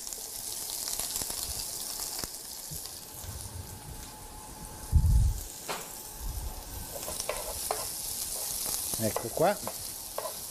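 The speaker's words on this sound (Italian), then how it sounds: "A questo punto cominciamo a soffriggere la nostra cipolla." Thinly sliced onion sautéing in a pan, a continuous close sizzle with stirring scrapes and one louder clatter midway, while a person briefly speaks.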